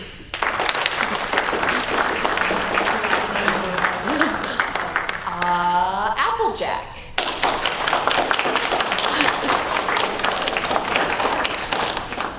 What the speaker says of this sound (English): By show of applause, we're gonna go through the main 6